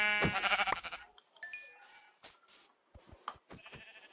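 Baby sheep in a video game bleat in a short burst of cries at the start, followed by quieter scattered game sounds and a few more thin bleats near the end.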